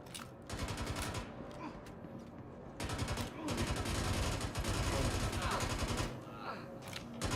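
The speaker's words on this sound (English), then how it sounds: "Why were all the Nine Tails gunning each other down?" Bursts of automatic gunfire from Nine Tails NPCs shooting one another in Star Citizen, loud and fairly close, coming in repeated volleys with short gaps between them.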